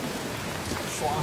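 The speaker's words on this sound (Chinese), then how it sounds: "看看这雨下的怎么样？" Heavy rain pours steadily onto an electric tricycle camper covered with a tarp, a dense, even hiss filling the moment while a voice briefly exclaims.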